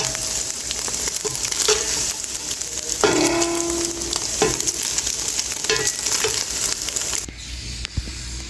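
An egg fries in hot oil for a biryani, giving a loud, continuous close sizzle with occasional scrapes and clinks of a utensil in the pan.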